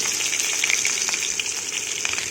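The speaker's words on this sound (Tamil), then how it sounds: "அப்புறம் கடுகு போட்டு நம்ம தாளித்ததும் இந்த காய்கறிகள்லாம் வந்து நம்ம வதக்கிக்கலாம்." Vegetables sautéing in oil just after mustard seeds are tempered for a tamarind puli kulambu, a steady close hiss of frying with faint crackles and no talk.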